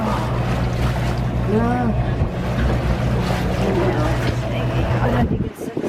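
A flat-bottomed canal boat pushes into waves on the Thames, with a steady engine drone, sloshing water and heavy wind buffeting the microphone while people talk over it.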